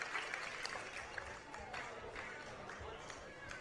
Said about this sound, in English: a bit of an applause from the crowd just above